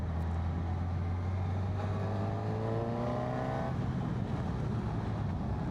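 A 2026 Honda CB1000GT motorcycle engine pulls hard under acceleration while riding, its rising harmonic whine climbing steadily over loud, constant wind roar.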